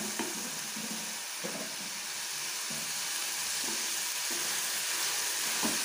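Onion and tomato frying in a pan for egg bhurji make a constant dense sizzle, and stirring knocks and scrapes come through now and then, with no voices.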